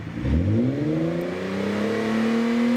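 A car engine revs up sharply during an exhaust sound test, its pitch climbing and then holding at a high, steady whine at 4,800 rpm, loud and close.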